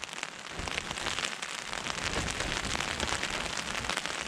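Heavy rain pours down steadily on a surface during a coast-to-coast walk across the Vale of Mowbray in England, a dense, close, continuous patter of drops with no pauses.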